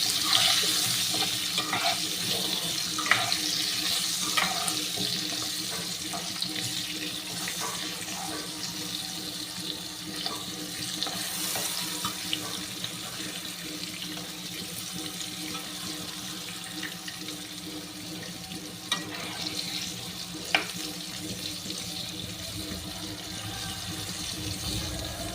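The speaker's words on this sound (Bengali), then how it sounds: "আলুগুলোকে একটু ভালো করে ভাজা করে নিতে হবে।" Potatoes fry in a pan for a tengra fish curry with eggplant, giving a continuous moderate sizzle with occasional stirring clicks and scrapes throughout.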